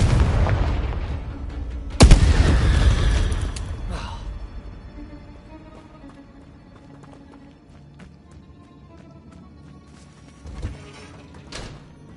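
Fire and blast spells, Incendio and Confringo, from the video game Hogwarts Legacy: a loud booming explosion that rumbles and fades over a few seconds, followed later by a smaller burst, with a voice speaking.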